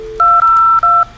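Telephone keypad tones from an IP phone dialing extension 2002 from 2001: four loud, clean dual-tone beeps in quick succession, close and clear, with no talking.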